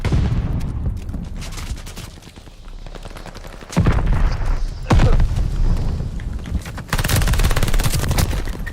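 A PPSh submachine gun firing in Call of Duty: Vanguard. It lets off loud, rapid bursts with brief pauses between them, and distant booms and other gunfire sound in the background.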